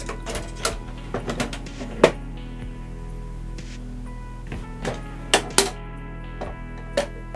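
A toner cartridge is pulled out of an HP LaserJet printer with a series of sharp plastic clicks and clacks at irregular intervals, close and distinct over a steady low machine hum.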